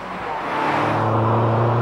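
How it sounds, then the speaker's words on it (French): Opel Astra TwinTop 2.0T engine building in a steady, loud rising drone as the car accelerates close by, with a deep rumble. "la sonorité rageuse du moteur"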